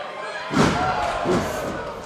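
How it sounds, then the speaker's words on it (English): A clubbing forearm strike to the head during a pro wrestling match between Rey Mysterio and Alberto El Patron. It comes as a heavy single thud with a second dull impact after it, over loud crowd noise. "Clubbing forearm. Yeah, Mysterio it's struck in the side of the head."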